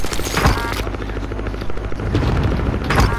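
A helicopter in a Call of Duty: Modern Warfare match thuds with loud, rhythmic rotor chop close overhead, swelling and fading over a few seconds with occasional heavier booms.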